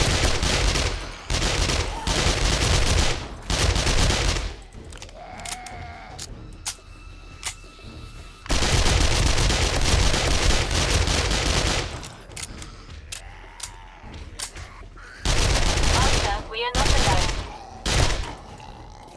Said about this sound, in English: This SMG's good, but I wish the damage output is a little bit more better.